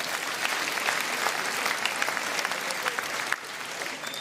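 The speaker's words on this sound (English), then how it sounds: "Round of applause for the members. Give yourselves a round of applause." An audience of Reform UK party members and locals at a Norfolk campaign event claps steadily in dense, sustained applause, fairly close, with no talking, easing slightly near the end.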